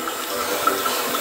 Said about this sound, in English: It's pouring straight down there, and it looks like no leaks.